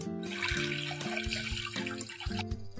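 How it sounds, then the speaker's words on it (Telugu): Water is poured into a pan of fried ginger and chillies while making pongal, a steady splashing rush heard under background music. "ఇప్పుడు ఇందులో 4 కప్స్ వాటర్ వేసుకొని"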